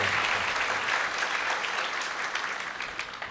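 A church congregation claps through a Pentecost Sunday Mass, with dense, steady applause filling the space and no talk over it.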